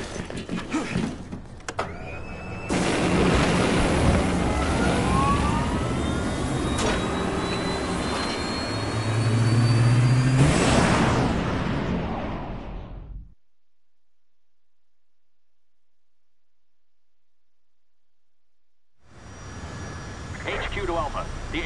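An aircraft's jet engine spools up in Resident Evil 6, a loud rising whine and rumble building over about thirteen seconds before cutting to silence, then returning briefly at the end.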